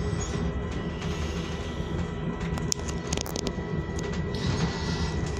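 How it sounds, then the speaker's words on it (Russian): Steady, continuous rumble and rattle inside a moving Russian Railways open-plan sleeper passenger car on the Chita–Moscow route, with faint intermittent clicks and no talking. "Ну, вообще мы находимся в поезде."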